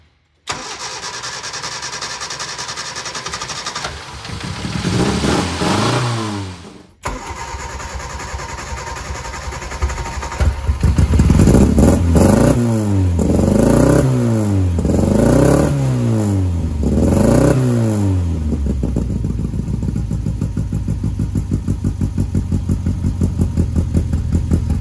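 A vintage Austin Cooper S with race history cranks over and fires on a cold start, then revs up and down in repeated loud surges before settling into a steady high idle, close and alone.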